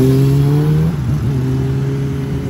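A Yamaha R1 sportbike engine running loud and close, holding a steady rumbling idle, then dipping briefly before settling back to an even drone, with no talking.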